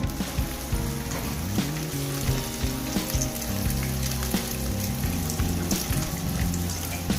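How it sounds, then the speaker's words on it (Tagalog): Pork bola bola meatballs frying in hot oil give a loud, dense, continuous sizzle with small crackles throughout, close by and with no voices. "prituin na muna natin to bago natin mamaya lalagyan na ng mushroom"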